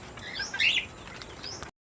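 Pet birds in a cage, likely finches or doves, giving a few brief high chirps close by, with no talking.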